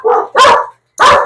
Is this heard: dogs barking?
yes